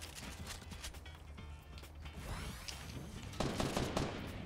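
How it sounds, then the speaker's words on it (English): Rapid bursts of enemy gunfire in Fortnite at Tilted Towers, repeated cracks and rattling volleys at mid distance over steady game ambience, growing denser toward the end. "Oh, they're shooting me."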